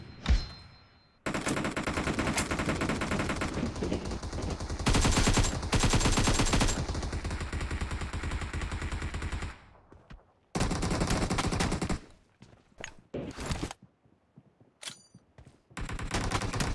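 Dense automatic gunfire and bursts of shots in a PUBG team deathmatch, loud sustained volleys for about ten seconds, then a short pause and more scattered bursts and single shots trailing off.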